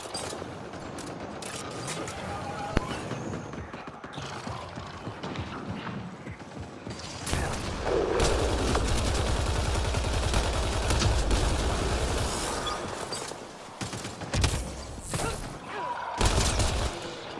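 Enemy gunfire in a Mass Effect Andromeda battle: clattering mechanical bursts and rattling shots, with a loud sustained barrage building midway and then breaking into scattered volleys, close and dense.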